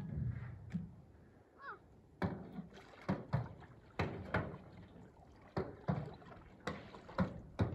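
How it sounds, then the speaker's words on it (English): Paddles dip and pull through water from a small boat in a steady rhythm of close splashes and knocks, roughly two strokes per second after a quieter start, with no talking. "We're paddling."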